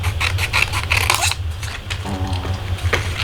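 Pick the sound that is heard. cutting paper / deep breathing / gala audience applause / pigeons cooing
cutting paper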